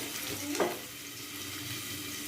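Garlic and ginger frying in a pan, a soft steady sizzle with one brief scrape of stirring near the start, fairly quiet and close, no talking.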